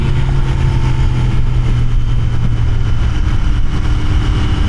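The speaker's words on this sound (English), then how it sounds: "this bike is a little bit quicker than I thought it was going to be" A Royal Enfield Continental GT 650 motorcycle's engine drones steadily at highway speed, a loud, continuous low rumble with constant wind roar throughout and no pauses.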